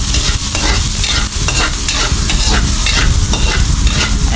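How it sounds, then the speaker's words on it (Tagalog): Onions sauté in a pan with browning ingredients for a coconut-milk chicken curry, a loud dense sizzle under constant rhythmic stirring and scraping strokes, very close, with no talking. "sunod na po natin yung sibuyas at tuloy lang sa paghahalo"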